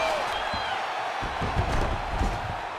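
A crowd at a UFC fight roars in a broad, steady wash of cheering that swells slightly, with commentary voices talking over it.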